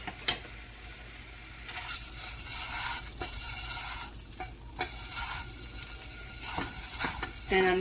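Longaniza sausage frying in a pan, a continuous crackling sizzle with intermittent scraping and stirring, close and moderately loud.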